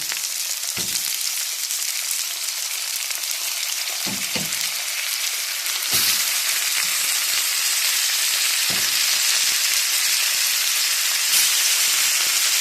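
Chicken pieces fry with onions in oil in a pan for a potato tray bake, giving a loud, steady close-up sizzle punctuated by several soft thuds of stirring.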